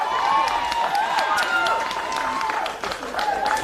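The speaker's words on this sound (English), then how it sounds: "Big cheer in the crowd." A crowd at a Riverland Football League match between Loxton and Waikerie cheers after a goal, a sustained roar with a commentator talking over it throughout.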